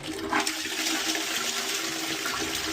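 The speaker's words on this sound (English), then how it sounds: "Let's give it a flush and see what happens." A blocked toilet flushes in a steady rushing gush of water that runs for several seconds, close and fairly loud, with no voices.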